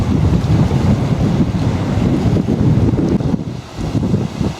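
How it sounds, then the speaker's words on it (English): Strong wind gusting over Bray Lake, above 20 and over 30 in gusts, roaring steadily and loudly across the microphone with water noise beneath, dipping briefly near the end. "wind above 20, gusting to over 30."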